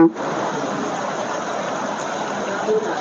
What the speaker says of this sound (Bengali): প্রায় 2 ঘন্টা থেকে টানা বৃষ্টি চলতেছে